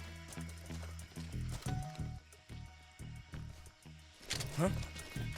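Footsteps in the stealth game Metal Gear Solid Delta: Snake Eater, a run of soft, evenly paced steps over low game ambience, with a brief voice near the end.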